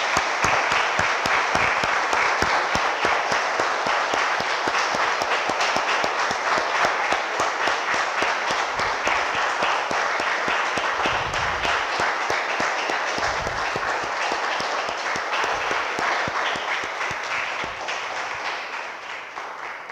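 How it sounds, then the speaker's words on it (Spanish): Congregation applause in a Spanish-language church service, sustained dense clapping that runs loud and even for about twenty seconds before easing slightly at the end, with no speech over it. "Damos un aplauso, hermanos, al Señor."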